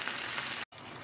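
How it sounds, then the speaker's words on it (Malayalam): Hot water and a cornflour slurry are poured into a pan of mushroom manchurian, making a brief close hissing sizzle that cuts out for an instant and then resumes. "ഇതിലേക്ക് കുറച്ച് ചൂടുവെള്ളവും ബാക്കി കോൺഫ്ലവർ കലക്കിയതും കൂടെ ഒഴിച്ചു കൊടുക്കാം"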